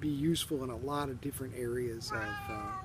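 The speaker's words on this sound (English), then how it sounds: "that's my cat" A 17-year-old cat meows several times close by, with drawn-out, wavering cries that overlap a man's lecture about mathematics.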